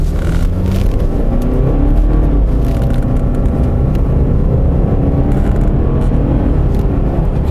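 A Subaru Forester XT turbo with 280 horsepower accelerates hard from a standstill to 100 km/h, its engine a loud, close, continuous roar that climbs in pitch.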